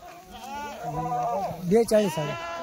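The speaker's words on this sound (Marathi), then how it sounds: "शेळ्या बघा मित्रांनो भुक्या शेळ्या आहे." Kathiawadi goats at a livestock sale bleat in quick overlapping calls, close and fairly clear, with a louder cluster of bleats near the end.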